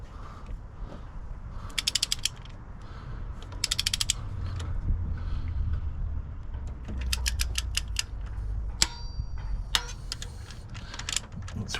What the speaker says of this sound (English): I'm going to torque these down.